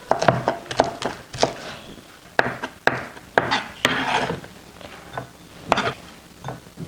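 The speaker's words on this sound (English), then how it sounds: "Then chop off some parsley." A knife chops parsley on a wooden board in irregular, sharp taps and short bursts, close and fairly clear with no talking.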